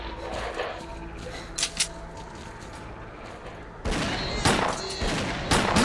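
Gunfire in S.T.A.L.K.E.R. Clear Sky, pistol shots cracking in short bursts and single reports over a dense game soundscape, growing louder and busier toward the end.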